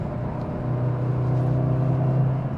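A 2025 Audi S3 sports sedan accelerates hard in first gear with boost building. Its engine drones steadily and fairly loudly, with a rising tonal hum and no talking.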